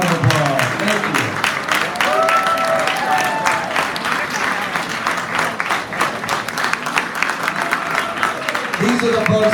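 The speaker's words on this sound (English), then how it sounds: "Please give them a round of applause" Applause from an event audience, a dense, steady burst of clapping that carries on loudly throughout with a few brief voices mixed in.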